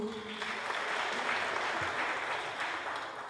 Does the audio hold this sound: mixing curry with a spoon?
no